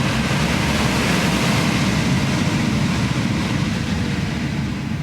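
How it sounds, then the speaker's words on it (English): Hot air from a Tesla Model 3 windshield defroster blows in a steady, loud broadband rush, an unbroken whoosh filling the cabin with no speech. "Tap it again, and you get hot air blowing through it."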